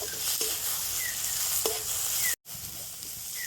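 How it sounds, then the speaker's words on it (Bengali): Chopped tomato fries in a pan for a Bombay duck fish curry, a continuous close hiss of sizzling oil with faint scrapes, briefly cut to silence before the sizzle returns. "টমেটোটা একটু ভেজে নিচ্ছি"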